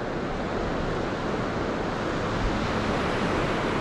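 Ocean surf at Nantasket Beach, a stretch of shore facing the open Atlantic near Boston, with waves washing in a steady, broad roar and wind noise over the microphone, and no talking.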